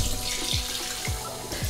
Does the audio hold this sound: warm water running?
yes